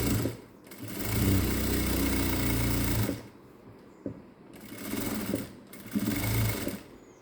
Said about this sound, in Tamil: போட்டுகிட்டே வந்தால் இன்னொரு டபுள் ஸ்டிச் போட்டுக்கிறீங்க.